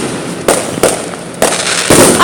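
Fireworks explode outdoors in four sharp, loud bursts spaced irregularly over about two seconds, each a broad crack followed by a brief crackling tail.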